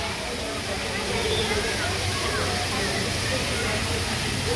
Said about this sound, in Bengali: কৃত্রিম ঝর্ণা আর কি, পানি পড়ছে